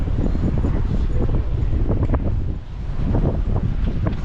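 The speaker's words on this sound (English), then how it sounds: "Nice breeze. On the breezeway." Steady outdoor wind rushing and buffeting across the microphone on a breezeway at the Ocean Star Offshore Drilling Rig Museum, a continuous low roar with no talking.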